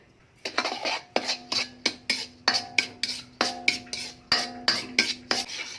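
Metal spoon scraping and clinking against a pan in a steady run of about fifteen sharp strokes while sugar is melted for homemade rambutan-seed nuts; close and fairly loud, no talk.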